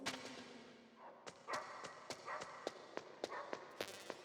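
Wolf dogs barking in Metal Gear Solid, a run of sharp, short barks that grows more frequent and louder toward the end, with light footfall-like taps between them.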